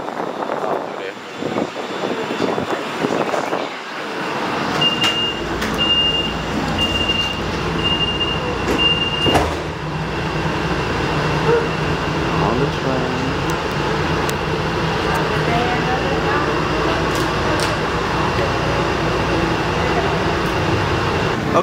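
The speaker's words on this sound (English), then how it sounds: "We hit the Purple Line train all the way to the theater district" A Houston Purple Line light rail train rumbles steadily from inside the car, with a long continuous roar and a brief high tone near the start, while people talk early on.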